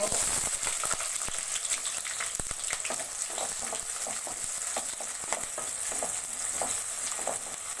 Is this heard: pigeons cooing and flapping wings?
no